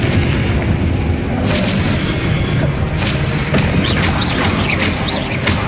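Repeated booming blasts from the Confringo spell in the Hogwarts Legacy video game, loud dense explosive bursts over continuous rumbling battle noise, with no talk.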